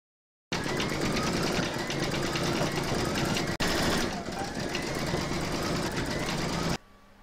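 An embroidery machine stitches out text on a fabric birth sampler with a continuous, fast mechanical whirr that pauses briefly partway through, close and loud.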